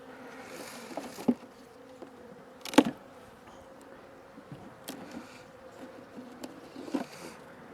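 Bees hum around honey frames lifted from a hive, a low, steady drone close by, broken by a few sharp knocks and clicks from frames being handled.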